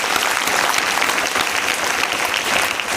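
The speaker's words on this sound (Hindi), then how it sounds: "ताली बजा दो भाई" Dense, steady applause from a group of students at a school gathering where a police station officer gives a motivational talk, loud and continuous for the full three seconds with no voices on top.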